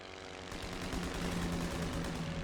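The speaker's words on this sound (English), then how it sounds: "Well, that's their bomber again." A bomber plane's engine drones in the video game Elite Great War, a loud, steady, rough roar that swells slightly and fills the scene with no voices.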